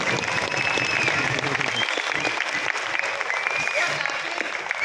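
Sustained audience applause at a Rotary district conference, a dense continuous wash of clapping filling the hall, with some talk mixed in beneath it.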